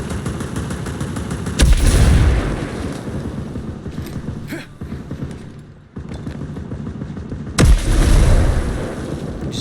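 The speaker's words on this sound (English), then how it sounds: "Just lobbing loads of grenades down there." Grenades bursting in the video game Ghost Recon Breakpoint: two heavy, booming blasts land a few seconds apart amid a continuous rattle of gunfire and battle noise.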